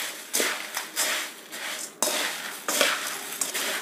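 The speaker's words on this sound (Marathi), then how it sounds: "तेल टाकून व्यवस्थित चिवडा मिक्स करून घ्यायचा आहे।" Flattened rice chivda being tossed and stirred with cooled spiced oil in a metal kadai, giving repeated clattering scrapes and rustling bursts of utensil against pan at close range, with no talking.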